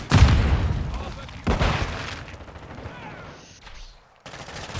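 Grenade explosion and gunfire in Call of Duty Modern Warfare 2 on PC, a loud blast opening into a rapid burst of shots, another heavy report, then fading rumble and a sudden gap before noise resumes.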